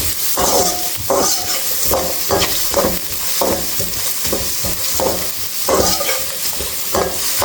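Onion and ingredients for a ragi ball chilli chutney being stirred and roasted in a pan, with a steady sizzle and repeated scraping strokes of a spoon, close and clear.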